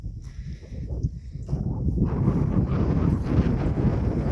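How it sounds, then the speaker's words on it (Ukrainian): Steady wind noise roars across an open hilltop, buffeting the microphone and growing stronger and more constant after the first couple of seconds. "Тут трохи вітер на горбаці"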